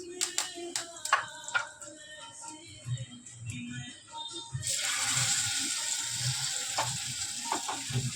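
Two marinated pieces of ravas (Indian salmon) fish start frying in a pan, with soft clinks and handling noises giving way to a loud, steady sizzle that holds to the end.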